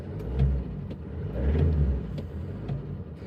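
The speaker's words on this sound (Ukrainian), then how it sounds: "Нормальна робота двигуна." A Ford Transit 2.0 diesel van engine idles with a low, steady rumble and faint periodic knocks, running continuously without any talking.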